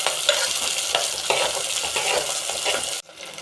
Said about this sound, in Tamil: வெங்காயம் போட்டு நல்லா வதக்கிக்கலாம்.